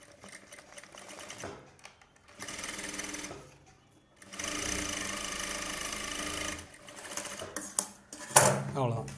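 Sewing machine stitching a folded blouse edge, running in several bursts of rapid mechanical whirring separated by short pauses, close and fairly loud.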